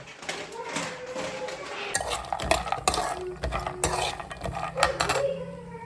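Cashews frying in ghee in a pan, a soft sizzle under steady clatter and scraping of a spoon stirring against the metal, with a voice talking over it.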